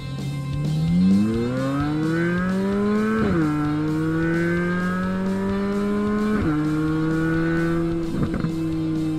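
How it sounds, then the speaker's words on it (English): A 2023 Corvette Z06's tuned exhaust roars as the engine revs up through the gears, the pitch climbing and dropping sharply at each shift, loud and close. "The exhaust has been carefully tuned to create a distinct mean sound."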